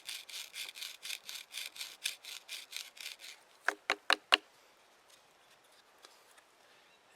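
A cottonwood bow drill spindle spins on its board with a little sand added as grit, giving a rapid series of rhythmic rasping strokes, then a few sharp louder scrapes before fading to near silence.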